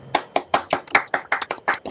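Audience applause closing a lecture on territory and water pedagogy, heard as a short, sparse round of separate claps in uneven bursts. A few hands at fairly close range, with no voices over them.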